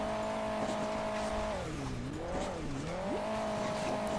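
Motorcycle engine in the racing game Hill Climb Racing 2, a loud, steady electronic whine that holds, dips and swoops in pitch as the bike climbs and lands, with faint tire-squeal noise underneath.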